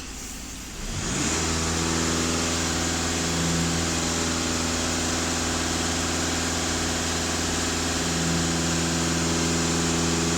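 VW Passat B8 engine, checked during diagnostics for an emissions system fault, starts up and settles into a steady, loud idle with a constant low hum that continues alone, with no clear rise in revs.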